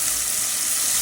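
Spices, ginger, garlic and green chilli frying in a pan with salt, cinnamon, cardamom and bay leaves for a Bengali chicken-skin dish, a steady close sizzle filling the whole moment without any voices.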